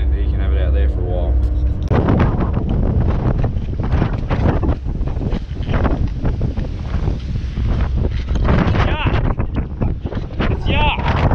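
Strong wind roars across the microphone aboard a small fishing boat at sea, a loud, constant buffeting rush with gusts and bumps throughout.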